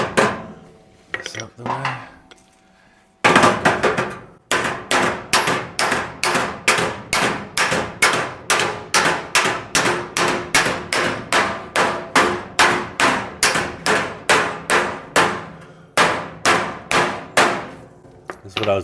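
Hammer blows on a dolly against the front fender of a 1937 Zephyr, starting with a brief flurry, then a long steady run of sharp, close metallic strikes at a quick even rhythm, a few words spoken near the start.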